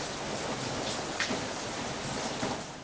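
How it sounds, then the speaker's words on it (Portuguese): Rain falling outside a slightly open window on a cold day, a soft continuous hiss of drops with a couple of faint brighter spatters, steady and distant. "Olho pela janela e vejo a chuva caindo."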